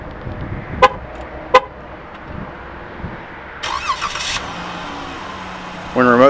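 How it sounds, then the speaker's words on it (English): A 2015 Chrysler Town & Country minivan starting remotely, with two sharp short horn chirps early on, then a brief burst of engine cranking and a few quieter tones near the end, heard among background sounds. "this vehicle does have a remote start."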